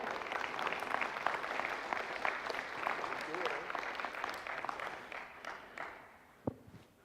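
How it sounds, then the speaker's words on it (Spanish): A church congregation claps loudly and steadily for several seconds during a Spanish-language sermon, a dense, even patter that thins out near the end, with the preacher's voice faintly present. "Denle un fuerte aplauso al Señor."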